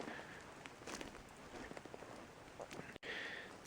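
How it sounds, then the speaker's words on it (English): Mixed rain and snow falling outdoors during a cold Utah elk hunt, a steady soft patter of drops hitting surfaces nearby, continuous and fairly faint throughout. "we got snow mixed with rain coming down"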